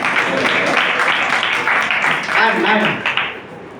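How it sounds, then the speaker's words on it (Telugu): A church congregation at Sunday worship claps together in a steady, dense burst of applause, with a voice or two mixed in, fading out near the end. "చప్పట్లు కొట్టమన్నాను, స్వాగతం చేయమన్నాను."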